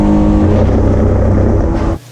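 Race car engine held at high revs in third gear around 7000 rpm, a loud sustained droning roar that cuts off sharply at the end.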